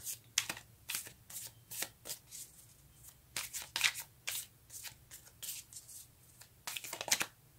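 A tarot card deck is shuffled close up in a steady run of about a dozen crisp, papery bursts with short pauses between them, and no voices over the shuffling.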